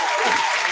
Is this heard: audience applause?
yes